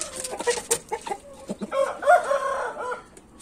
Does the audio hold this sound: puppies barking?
no